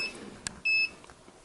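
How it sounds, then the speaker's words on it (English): Two steady high-pitched electronic beeps from an RC transmitter with a low battery, with a short gap between them, plus a brief click, clear and close with no voices. "excuse the beeping. The battery is running a little low."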